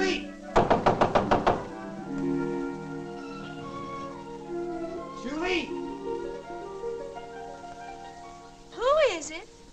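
A rapid burst of about eight hard knocks bangs on a door close by, followed by a quieter stretch with background music and a couple of short voices calling out.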